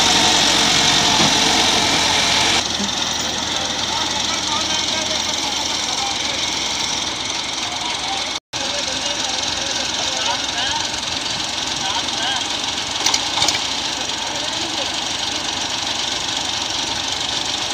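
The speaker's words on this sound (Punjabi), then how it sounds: "ਕੀ ਦਾ ਸਟਾਰਟ ਹੋ ਗਿਆ" A small tractor stuck in deep mud runs with a steady, knocking diesel chug close by, changing tone early on and continuing throughout, with people talking over the engine.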